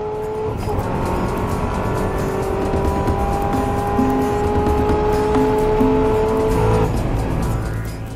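Chevrolet Corvette ZR1 racing on a track, its engine holding a loud, steady high-revving drone throughout, with a tyre squeal or brief pitch change near the end.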